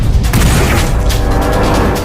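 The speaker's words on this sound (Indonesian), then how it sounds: "Tiba-tiba Sarpan dan istrinya serta anak buahnya datang menembak Jogindra." A loud, dense boom-like blast from a Telugu action thriller fills the whole short stretch, sounding like a heavy gunshot or explosion with a rumbling, sustained tail and no voices.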